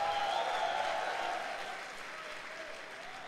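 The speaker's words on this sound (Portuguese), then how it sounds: "Dá um aplauso ao Senhor!" Applause from a Sunday church congregation, loud and dense at first with a cheering tone, then gradually easing off while still filling the room.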